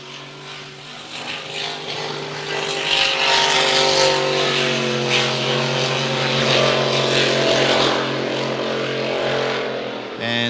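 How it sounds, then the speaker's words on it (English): A truck or tractor pulling vehicle's motor fires up at a Gold Cup pulling practice and revs hard, a loud roaring drone that swells and holds for several seconds, heard alone. "So it looks like Connor has got the motor fired up."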